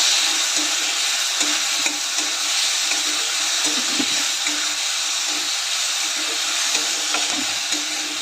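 Moong dal crackles and hisses as it is stir-fried in a pan, a steady close sizzle with light, irregular stirring taps throughout.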